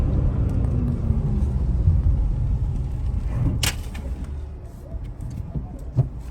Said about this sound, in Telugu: బ్రేకింగ్ చూద్దాం ఒకసారి వెహికల్ది.